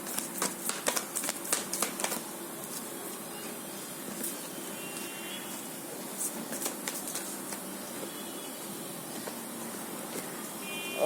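Tarot cards shuffled and drawn during a Hindi tarot reading: crisp papery riffles and flicks, clustered at the start and again midway, fairly close over a steady quiet room hiss.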